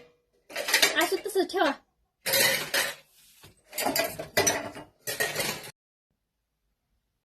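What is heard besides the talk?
clattering of utensils, pots and dishes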